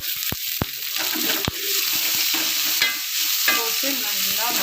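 Onion and green chilli sizzle and crackle as they are sautéed in a pan, with steady frying hiss throughout and a few sharp clicks of a spatula or tongs against the metal near the start, close and moderately loud.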